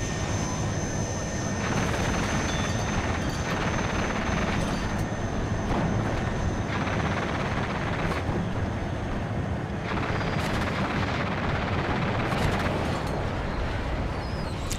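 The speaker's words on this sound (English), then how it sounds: "Receiving heavy fire from the Russian anti-air, causing our Blackhawk helicopters to spin out of control." Black Hawk helicopters take heavy Russian anti-air fire in the video game WARNO, a dense continuous roar of rotor and engine noise mixed with rumbling blasts, loud and sustained throughout.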